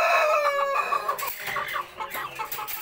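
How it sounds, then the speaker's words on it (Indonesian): Ayam cemani chickens clucking and squawking close by, a busy run of overlapping calls with no pause. "Ini ayam."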